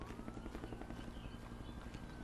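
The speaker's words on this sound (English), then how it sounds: "Is that a helicopter? Sounds like there's a helicopter." Helicopter in the Road 96 video game, a steady low rotor drone running throughout, moderately loud and blended with other game ambience.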